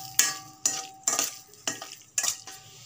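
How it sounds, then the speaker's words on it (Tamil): Masala pasta frying in a pan, with five rhythmic scraping strokes of a spoon stirring the sticky sauce over a low sizzle, close and clear. "இந்த மசாலா வந்து நல்லா பாஸ்தாவோட ஒட்டுற வரைக்கும் நல்லா கொஞ்சம் ஃப்ரை பண்ணிட்டு"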